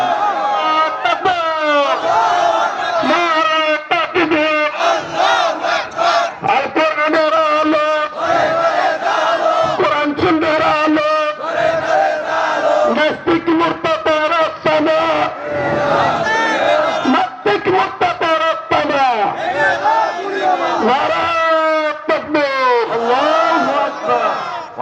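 A large crowd at a Bengali Islamic sermon gathering shouts the takbir, 'Allahu Akbar', in loud, sustained massed voices that swell and surge continuously for the whole stretch.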